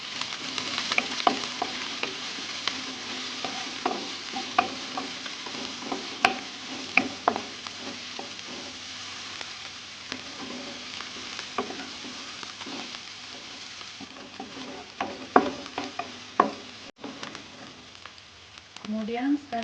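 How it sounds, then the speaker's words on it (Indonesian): Sliced shallots, garlic and chili sauté in an oiled pan for Korean-style egg fried rice, a steady soft sizzle broken by frequent scraping and tapping of a spatula throughout. "Kemudian akan saya tumis sampai layu."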